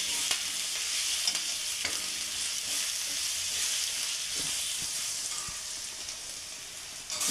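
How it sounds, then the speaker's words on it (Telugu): Coarsely pounded garlic paste fries with a loud, steady sizzle in a pan, with occasional scrapes and clicks of stirring running throughout and no voices. "ఇప్పుడు కచ్చాపచ్చగా దంచుకున్న తెల్లగడ్డలు పేస్ట్ వేయాలి. వేసి ఇదంతా బాగా వేయించుకోవాలి"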